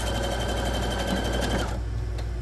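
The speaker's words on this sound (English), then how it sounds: "So I'm just sewing down, and the reason I'm sewing down is to close it off." A sewing machine runs continuously and loudly as it stitches down a pocket on a shirt being turned into a maxi dress, then the whirring drops off near the end.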